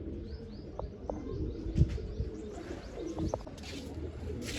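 Pigeons cooing at a loft where grain and water are set out, soft low coos repeating against a busy background of scattered clicks and knocks, with the odd faint chirp.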